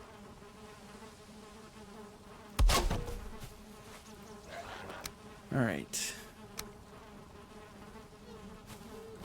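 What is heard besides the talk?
bees buzzing in Valheim video game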